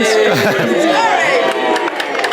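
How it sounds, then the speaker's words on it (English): Wedding guests at a reception raise a loud, enthusiastic cheer, a burst of whoops and shouts from a crowd that carries on with mixed chatter and some clapping. "shall we have a cheer for"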